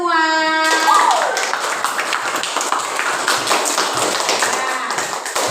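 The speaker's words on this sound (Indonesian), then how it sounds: "Tepuk tangan buat kita semua." A classroom of students breaking into clapping after a short tonal chime, a busy, fairly loud patter of many hands that continues steadily.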